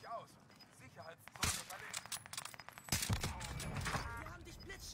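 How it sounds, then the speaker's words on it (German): Bursts of video game gunfire, a couple of loud volleys with scattered shots, under game sounds and voices. "Ich hab voll unten Schüsse gehört."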